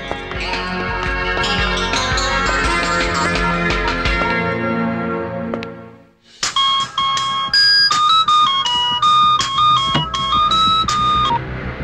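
A mobile phone rings in a movie scene: after several seconds of dense music, a bright electronic ringtone melody plays loudly in short repeating tonal phrases.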